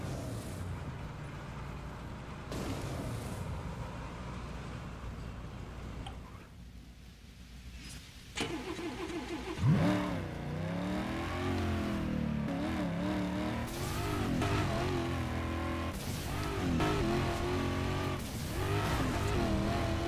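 A heavy truck driven in the video game Burnout Paradise, its low engine drone revving and shifting under constant game music, with tire noise and a sudden louder burst midway.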